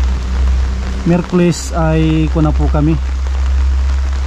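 Heavy rain drums steadily on a roof over a low constant rumble, while someone speaks in Filipino over it for a few seconds.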